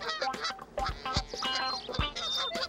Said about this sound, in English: Just listen to those birds sing.